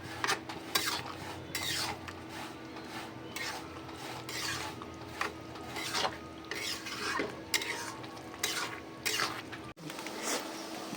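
Long beans, carrots and egg stir-fried for homemade fried rice, repeated spatula scrapes and metal clinks against the pan over a soft sizzle, close and steady with no speech.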